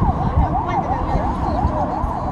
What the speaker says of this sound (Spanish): Ambulancia, bomberos son,